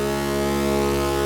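Modular synthesizer drone from two wave-folded VCO signals split left and right, a steady, buzzy harmonic-rich tone held constant and alone.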